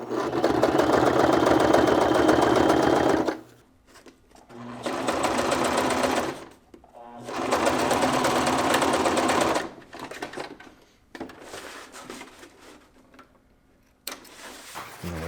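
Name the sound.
sewing machine stitching fabric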